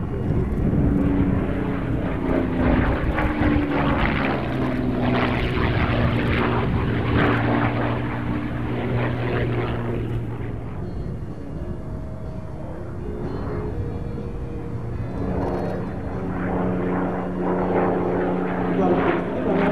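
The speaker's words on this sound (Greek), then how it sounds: "Αυτό το αεροσκάφο είναι ένα αεροσκάφο με ιδιαίτερη ιστορική αξία για την ελληνική πολεμική αεροπορία." A propeller-driven military aircraft of historic value to the Hellenic Air Force flies at the Athens Flying Week 2022 air show, its loud droning engine holding steady and then swelling again, with someone speaking over it.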